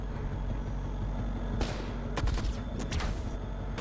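Bursts of gunfire in the turn-based cyberpunk game System Crash, a few sharp clustered shots cutting through a steady low in-game rumble, loud and close with no talk.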